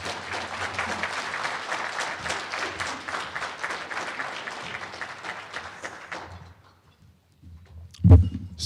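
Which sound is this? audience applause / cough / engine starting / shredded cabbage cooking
audience applause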